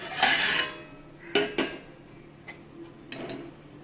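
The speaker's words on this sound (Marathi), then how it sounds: "भाजीवरती मी लेट ठेवून घेते आणि पाच मिनटं भाजी शिजवून घेते" A metal lid is set onto a pot of vegetables cooking on the stove, giving a bright clatter at the start followed by a few lighter clinks and taps, close by with no talking.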